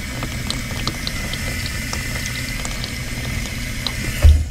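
A newly installed dishwasher runs and fills with water, giving a steady rushing, gurgling wash with faint clicks inside the machine and a low thump at the end.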